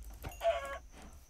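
A Minecraft chicken gives a brief, close cluck lasting under a second, clear over quiet game ambience, with no voices.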